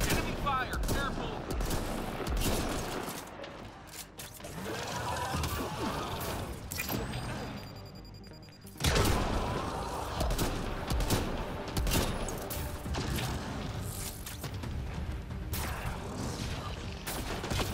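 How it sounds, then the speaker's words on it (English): Continuous gunfire from the sci-fi shooter Mass Effect Andromeda, with rapid automatic bursts, mechanical clatter and crashes filling the whole stretch, briefly dipping before resuming loud and dense, with game voices and effects mixed in. "Enemy fire, careful!"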